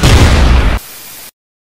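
Cartoon explosion as a flying magical pony is shot down from far away: a loud, dense boom lasting under a second, cut off into a quieter hiss that ends abruptly, with no voices.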